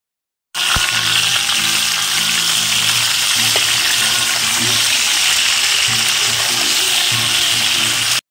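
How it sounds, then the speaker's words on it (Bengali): Potatoes and chopped tomatoes frying in oil with cumin give a loud, steady sizzle that runs almost unbroken, with intermittent low tones and a faint voice underneath. "আলুটা ভালো করে ভাজা হয়ে গেলে তাতে কুচিয়ে রাখা টমেটো দিয়ে সেটিকেও আলুর সাথে ভালো করে ভেজে নিয়েছি।"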